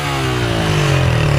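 A Honda Titan 160 motorcycle with its original piston revs hard up close, a loud, steady engine roar whose pitch climbs gradually with no voices over it.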